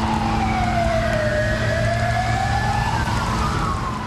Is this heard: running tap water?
no